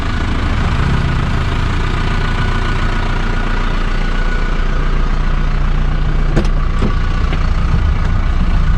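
A 1992 Isuzu Mangkorn Thong pickup with a 90 hp engine runs at a steady idle, a continuous low rumble close by, with a few brief clicks near the end and no talking.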